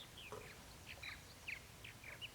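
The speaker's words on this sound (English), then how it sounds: "Bird song's really nice here." Birds sing outdoors along a walking path, a string of faint, thin chirps and short whistled notes spaced loosely over a soft background hiss.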